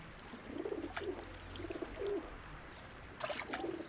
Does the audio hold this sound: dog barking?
no